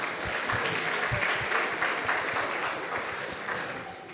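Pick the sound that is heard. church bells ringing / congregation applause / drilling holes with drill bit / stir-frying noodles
congregation applause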